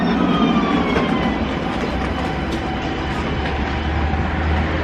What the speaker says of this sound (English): So here is my tram